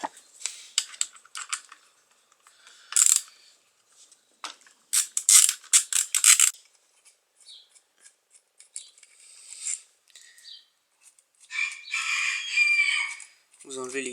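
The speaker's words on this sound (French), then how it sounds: "on va commencer par enlever les 4 vis de notre embrayage" Screws being loosened from the clutch of an AM6 engine, with a hand tool's quick ratcheting clicks in irregular bursts, close and crisp, separated by quiet pauses and a few metallic scrapes.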